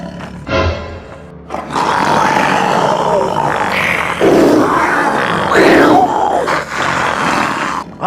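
A man imitates a tiger's roar from inside a village sugarcane field, producing loud, rough, sustained growling roars that rise and fall over several seconds, close and dominating.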